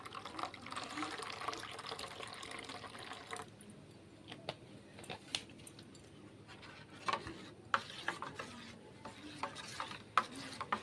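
Cold water poured into lychee paste mixed with milk for a sherbet, then stirred, giving a soft pouring wash followed by quieter intermittent clinks and sloshes close by.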